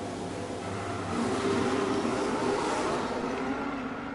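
Race cars at the start of a Monaco race in a video game: a dense, steady roar of several engines revving together, growing slightly louder and sustained throughout.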